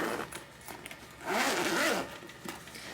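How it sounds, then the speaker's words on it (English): A zipper that runs all the way around a travel bag is drawn steadily in one long pull, a bright rasping run with softer handling rustles before and after. "That zipper goes all the way around."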